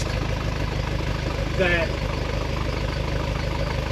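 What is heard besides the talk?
car engine idling while warming up, valvetrain noise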